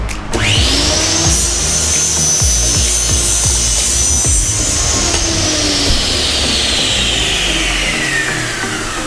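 Plastic pipe being cut to length for a campervan waste and fresh water dump valve, a loud, continuous close-up power-tool whine with a slowly falling pitch and rasping cutting noise underneath.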